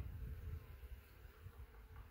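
Worker bees buzz around an open hive box from a fallen bee tree, a faint, continuous low drone with slight wavering, heard close and alone.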